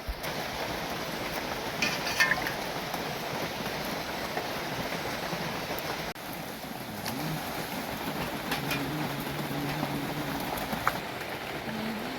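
Heavy rain during an outdoor fishing and cooking outing drums in a broad, unbroken wash of noise, steady and fairly loud with no pauses.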